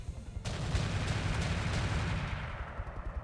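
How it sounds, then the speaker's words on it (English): An enemy gun fires in a video game: a sudden burst of rapid, loud gunshots that blur into a dense rattle, then taper off after about two seconds. "He's shooting 5 times with that gun"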